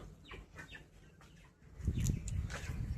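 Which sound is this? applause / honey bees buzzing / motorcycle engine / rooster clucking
rooster clucking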